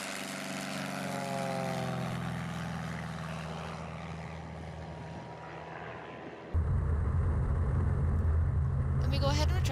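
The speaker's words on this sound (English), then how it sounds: "Here's an outside view of the takeoff. As you can see, the Aero needs very little runway to take off." A Piper Arrow 180 propeller airplane takes off, heard from outside on the runway: a steady engine drone with rising tones, then a sudden louder, closer, rougher engine roar near the end.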